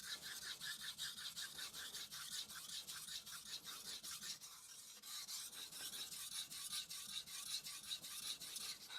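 A blade is sharpened on an inexpensive Japanese whetstone in steady, rhythmic back-and-forth rasping strokes, close and quiet, with no talking.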